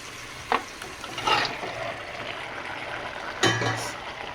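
Chicken going into a frying tomato-ginger gravy, a low continuous sizzle broken by a few clinking stirs of a spoon against the pan, close by and with no talking.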